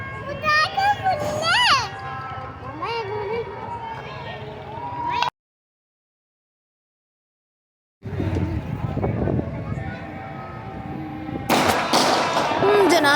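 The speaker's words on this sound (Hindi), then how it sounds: "तो खैर ये एंजॉय करें अभी पटाखे शटाखे" Firecrackers burst at a Pakistani Independence Day celebration on 14 August, sharp cracks mixing with children's chatter and adult talk, then a silent gap, then louder pops crowding together near the end.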